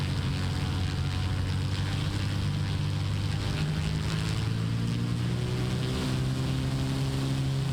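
A propeller aircraft engine drones steadily through a takeoff roll in Microsoft Flight Simulator 2024, a loud, constant low hum with strong harmonic bands and slight pitch shifts, heard alone.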